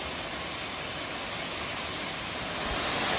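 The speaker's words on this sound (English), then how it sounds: "And this is the 2nd level of the waterfall." A steady, dense rush of falling water at the second level of a tiered waterfall in Kanchanaburi, Thailand, a constant broadband roar without breaks, swelling slightly louder toward the end.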